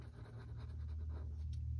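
Daiso Japan markers scratch and rub across paper while colouring in, a soft, close, continuous scribbling with a low background hum and no voices.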